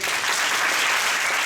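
A church congregation at a Sunday service claps together in dense, continuous applause, loud and sustained for the whole moment.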